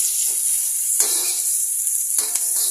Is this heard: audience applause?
no